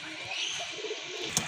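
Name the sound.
pigeons cooing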